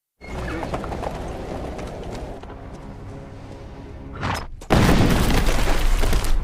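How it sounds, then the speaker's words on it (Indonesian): A loud landmine blast erupts abruptly after a stretch of rumbling commotion, followed by sustained, dense noise. "Seketika ranjau itu pun meledak."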